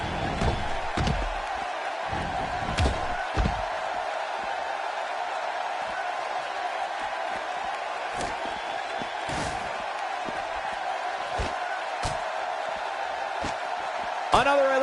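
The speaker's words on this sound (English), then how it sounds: "Another electric crowd on hand here for SmackDown" Arena crowd at a SmackDown show in WWE 2K16, a steady wash of distant crowd noise under commentary, punctuated by occasional slams and sharp impacts.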